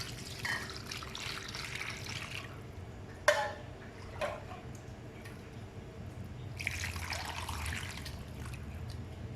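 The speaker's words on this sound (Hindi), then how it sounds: "अब अच्छी तरह से इनको धो लेंगे।" Water splashes and trickles in two bursts as mutton trotters (paya) are washed with hot water, with a single sharp clank of a pot or utensil in between.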